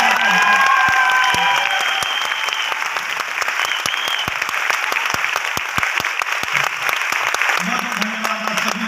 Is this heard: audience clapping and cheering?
yes